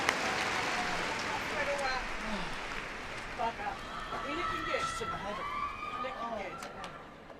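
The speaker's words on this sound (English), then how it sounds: "Someone's got their fan club there in the audience by the sounds of it." A crowd at the Crufts dog show cheers and applauds, a broad, steady wash of noise with scattered shouts and whoops, while an announcer speaks over it.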